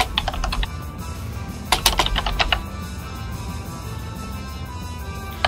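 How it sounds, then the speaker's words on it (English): Someone types an email on a computer keyboard, with bursts of crisp key clicks in two clusters near the start. After that come quieter scattered taps over a low background hum. "And that sound in the background, ladies and gentlemen, is a keyboard warrior. Yeah, sorry, I'm typing an email."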